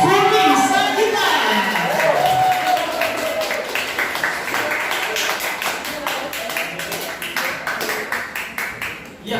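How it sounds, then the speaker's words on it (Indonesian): Audience applause for the director of a WTV Original drama series at a press event, a steady wash of many hands clapping that fills the room, starting loud and slowly fading over several seconds. "kita berikan tepuk tangan juga ya untuk sutradara dari WTV Original Kaget Nikah, Vicky Sagita"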